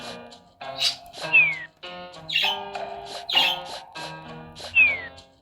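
Birds chirp in a video game: a series of bright, repeated tweets and short squawky calls with downward-sliding whistles, arriving in clear bursts about every second.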